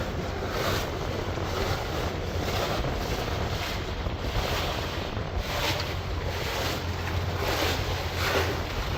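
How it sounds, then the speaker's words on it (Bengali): Strong southerly wind buffets a boat heading south at sea under a cloudy sky, a steady loud roar with gusty rumble on the microphone and the wash of water throughout, no voices. "আজকের আবহাওয়াটা হচ্ছে দক্ষিণা বাতাস আমরা দক্ষিণেই যাচ্ছি ঘাটায় যাচ্ছি বাতাস আছে বেশ"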